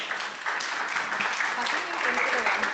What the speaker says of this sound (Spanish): Por favor, fuertes los aplausos.